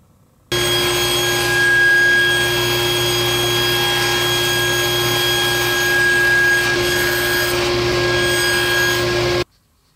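A saw ripping and cross-cutting cork pieces to size, a steady whining, humming cut that runs continuously for about nine seconds, loud and close.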